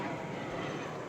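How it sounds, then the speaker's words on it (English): Airplane passing overhead near an airport beside a farm, a steady broad low roar filling the whole clip at fairly constant loudness with no talk over it. "so I'm going to pause for the plane."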